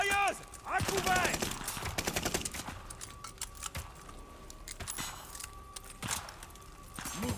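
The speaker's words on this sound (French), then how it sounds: "Mitrailleuse! À couvert!" Machine gun fire rattles in bursts during a Call of Duty Vanguard battle, mixed with other game sounds and shouted voices, with sharp clustered shots in the first seconds and again later.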